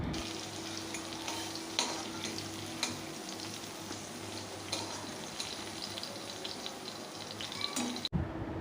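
Pointed gourd pieces for a potato curry are pushed aside with a spatula in a pan over a high gas flame, giving a steady, close sizzle with faint scraping and a brief cut near the end.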